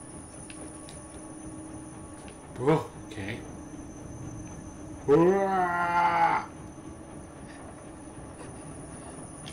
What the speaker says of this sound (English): A little train track. A little train.